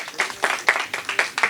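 Applause for a prize winner at a medical conference at AIIMS Bhubaneswar, a short burst of audience clapping at moderate volume with distinct individual claps.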